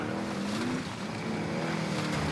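A car engine in Call of Duty Warzone drones steadily at a low pitch with a wavering rumble, continuous and fairly loud throughout, with no talk over it.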